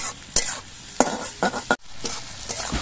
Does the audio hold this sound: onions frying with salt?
yes